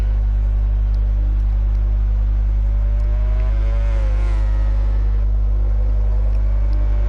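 Ducati and Yamaha motorcycles racing at Laguna Seca in MotoGP 20: a steady, heavy engine drone with a brief rising rev swell in the middle, loud and continuous.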